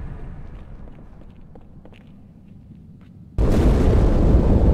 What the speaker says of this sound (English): That explosion came from inside the Athens.